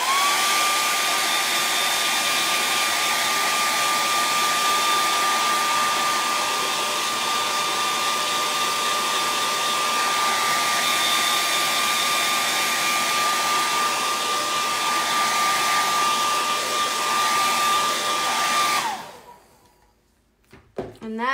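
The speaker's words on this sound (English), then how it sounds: "hair dryer and then I'm going to dry this" A hair dryer blowing on a wet acrylic painting of a pineapple, a loud, steady whooshing roar with a constant whine, running close and unbroken for about nineteen seconds before clicking off.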